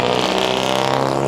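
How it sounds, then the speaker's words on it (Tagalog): A jeepney passes close by on a city street with a loud, steady engine drone that fills the whole moment, with no one talking. "ingay ng jeep."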